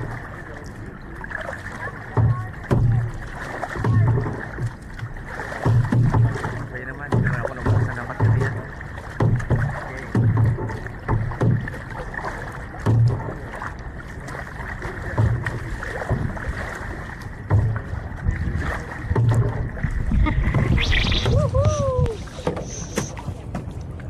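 Paddles dip and pull through the water as a boat crosses Twin Lagoon in Coron, Palawan, giving a repeated rhythmic splash and swish under wind noise. Brief voices are heard near the end.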